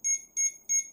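A Jio Tag Air tracker gives three quick, evenly spaced electronic beeps, each a sharp bright double pulse, loud and close in an otherwise quiet room.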